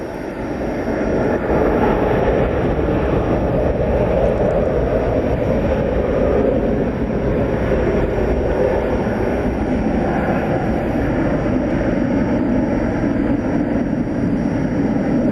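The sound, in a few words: American Airlines Airbus A321 jet arriving at DFW Airport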